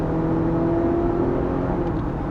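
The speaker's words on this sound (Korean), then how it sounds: "가속할 때 확실히 엔진 소리가 나는구나" A Honda CR-V 2WD engine accelerates while driving on the road, a steady loud hum and drone heard from inside the cabin with constant road noise and no break.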